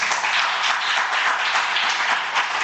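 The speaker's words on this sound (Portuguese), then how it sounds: "Uma salva de palmas." A church congregation breaks into dense, sustained applause, many hands clapping together at even strength for a few seconds with no voices on top.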